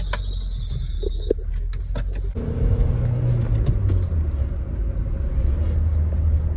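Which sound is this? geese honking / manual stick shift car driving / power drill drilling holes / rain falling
manual stick shift car driving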